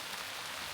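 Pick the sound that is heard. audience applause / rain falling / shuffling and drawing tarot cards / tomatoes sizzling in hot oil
rain falling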